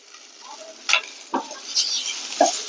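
Green chili, curry leaves, dried chili and garlic being sautéed in a pan, with a soft sizzle and a few brief scraping stirs, close and moderately quiet, no talking.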